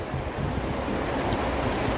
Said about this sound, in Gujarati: બધા શાંતિથી ઠંડો પવન ખાઈએ છીએ બેઠા બેઠા.